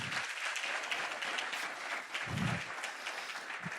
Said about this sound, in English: Let's give another noisy and hard round of applause for our speakers.